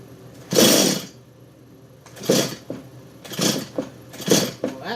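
Small chainsaw engine sputtering after a fuel line repair, several short loud bursts of revving with uneven gaps, close by and without talk.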